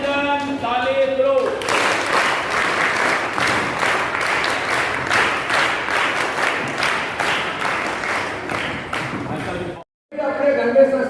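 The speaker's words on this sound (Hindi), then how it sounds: "अभिनंदन, ताली दो।" Audience clapping at a Vijayadashami celebration and half-yearly exam ceremony at DAV School No. 1 in Gandhi Nagar, Delhi: a loud, sustained round of applause that cuts off abruptly near the end, with speech before and after it.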